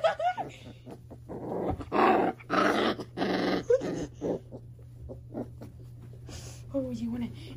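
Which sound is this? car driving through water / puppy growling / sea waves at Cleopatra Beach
puppy growling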